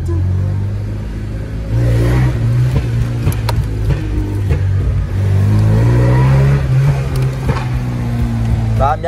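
A Tofaş car's engine revving hard near the exhaust, with rising and falling surges, sharp pops and crackles between revs, while people talk over it.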